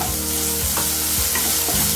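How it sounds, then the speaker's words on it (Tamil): Onions frying in a pan for a kids' macaroni dish, a steady close sizzle with a few scrapes of a spoon stirring them, no talking. "கொஞ்சம் வெங்காயம் நல்லா வேகட்டும்"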